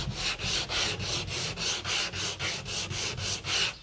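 Sanding a wooden kayak coaming with 80 grit sandpaper: about a dozen even back-and-forth strokes, each a loud, close, hissing scrub in a steady rhythm, with no talking.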